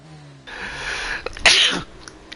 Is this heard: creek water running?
no